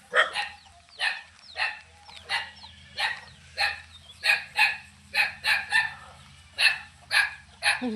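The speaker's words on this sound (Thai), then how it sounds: "หมาเห่า" A dog barks in repeated sharp bursts at a village house in northeastern Thailand, the barks coming in a steady string of about a dozen over a low background hum.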